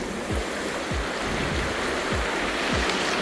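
Water rushes steadily through a cave stream during the monsoon, a loud broadband flow with a few low splashing thumps at intervals and no talking.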